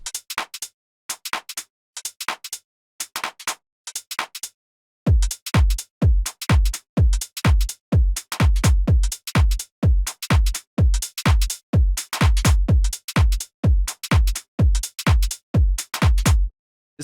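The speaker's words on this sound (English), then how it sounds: "you open up a Transient Processor and you just lower down the release" A tech house drum loop run through a transient processor with lowered release plays tight, clipped hits. Sparse clicky hat-like ticks come first, then steady driving kicks with crisp tops enter, every hit cut short.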